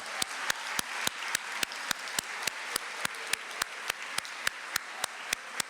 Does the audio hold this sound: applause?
yes